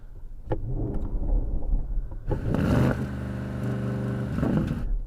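A Porsche Cayenne Turbo S engine revs loudly in bursts, a deep roar swelling and easing over a few seconds, heard alone without talk.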